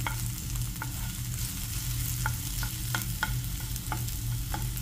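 Chopped onion and garlic sautéing in a pan: a steady close sizzle with intermittent scraping stirs of a utensil against the pan, no voices.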